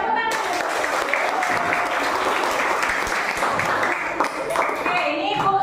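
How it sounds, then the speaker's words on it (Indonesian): A school class claps for a group's social studies presentation, a dense burst of many hands starting abruptly and continuing steadily to the end, with a voice briefly audible. "tepuk tangan"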